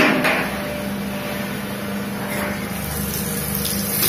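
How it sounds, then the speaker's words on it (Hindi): Water from a bucket poured into a rusted, soil-clogged GI pipe makes a steady broadband gushing and gurgling rush that holds evenly loud throughout, with no voices. "ये बाल्टी डालते हैं पानी"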